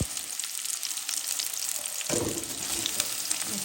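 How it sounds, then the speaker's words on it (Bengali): Onion, tomato, bay leaf, cinnamon and cardamom sizzle together in hot oil, a soft steady frying hiss that swells as the ingredients hit the pan partway through. "একসাথে ভেজে নেব।"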